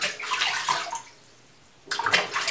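Water splashes during a cat's bath as its tail is wetted, in two short bursts of nearby sloshing and dripping separated by a quiet gap.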